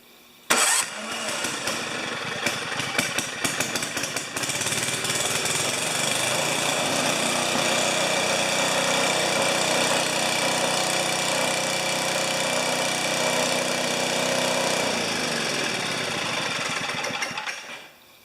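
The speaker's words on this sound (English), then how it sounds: "let's just take the choke off and see if she starts." An Ariens snowblower with an electric starter cranks briefly and then catches once the choke is off, settling into a steady, loud engine run close by that continues before cutting out near the end.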